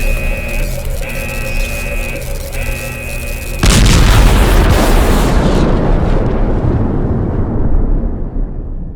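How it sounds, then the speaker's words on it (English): An overcharged energy core in the video game Last Days of Lazarus explodes into a sudden loud, broadband roar that cuts off a steady humming drone, then rumbles on and slowly fades over several seconds. "This thing is going to explode."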